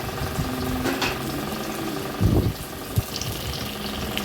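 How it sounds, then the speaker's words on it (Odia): Fish frying in a pan gives a soft, steady sizzle with faint clinks and a couple of brief louder pops, heard at low level with no talking. "ଏଠି ମୁଁ ମାଛ ବି ଭାଜୁଛି, ମାଛ ଭାଜୁଛି"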